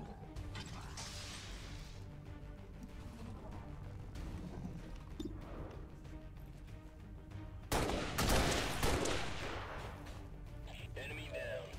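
Gunfire at a mech in XCOM 2: scattered shots and mechanical clatter over a low game rumble, with a louder burst of crashing fire near the end.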